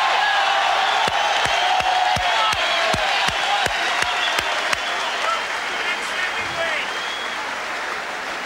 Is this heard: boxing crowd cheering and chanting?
yes